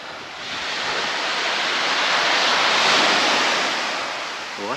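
Steady roar of Black Sea surf washing onto a beach at Ordzhonikidze, Crimea, broadband and continuous, swelling slightly in the middle, with some wind on the microphone.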